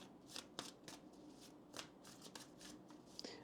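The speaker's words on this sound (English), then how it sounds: "let's pull some oracle cards, and then we'll also pull some tarot cards for you" Oracle and tarot cards being shuffled and pulled during a Taurus tarot reading, soft papery riffles and flicks in quick irregular bursts, close and quiet with no talking.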